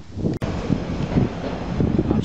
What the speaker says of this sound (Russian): Сегодня прохладно, ветер.